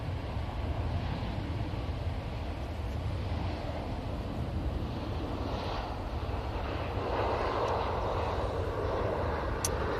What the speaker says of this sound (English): Right, here is the Singapore A350-900.